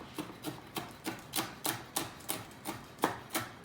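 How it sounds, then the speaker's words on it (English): Cooked bacon being chopped on a board with a knife, a steady run of about a dozen crisp, evenly spaced knife strikes close up, with no voices. "We are just going to chop this up and put it aside."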